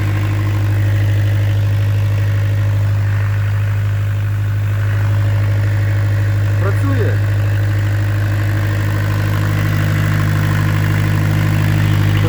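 A diesel engine on a high-pressure irrigation water pump drones steadily and loudly with a deep, constant hum, running alone throughout with a faint brief rattle partway through.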